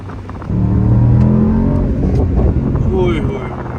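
Mercedes SL55 AMG engine, rated at 700 Nm of torque, surges loudly from idle into hard acceleration with a rising, rumbling exhaust note heard from inside the car.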